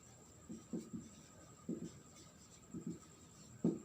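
Chalk or marker strokes on a board during a class 11 chemistry lecture on atomic structure, several short scratchy bursts spaced out over a few seconds, faint and close with no talking.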